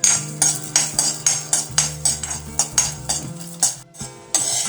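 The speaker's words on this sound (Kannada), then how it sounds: "ನೆಲಗಡಲೆ ಬೀಜವನ್ನು ಹುರ್ಕೊಳ್ಳುವ." Peanuts roasting in a pan, stirred with a metal spoon that scrapes and clinks against the pan in a steady series of sharp, close strokes, with no talk.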